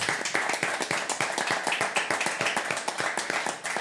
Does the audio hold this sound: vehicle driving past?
no